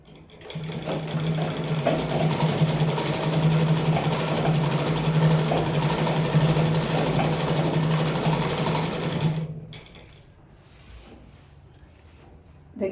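A sewing machine runs steadily while stitching a saree, a loud continuous mechanical hum lasting about nine seconds before it stops, leaving quiet room sound.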